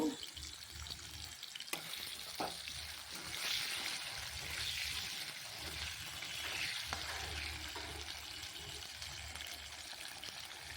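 Potatoes frying in oil with dry red chilli, cumin and garam masala, a steady soft sizzle with occasional stirring clicks, close and continuous throughout.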